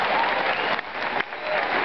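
Applause from an audience at an evening event honouring martyrs, a dense steady clapping that swells and dips briefly before continuing loudly.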